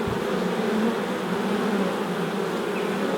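Honeybees at a hive troubled by mites and deformed wing virus make a dense, steady, close buzz that fills the whole stretch without a break.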